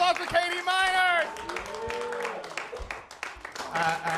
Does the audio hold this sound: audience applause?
yes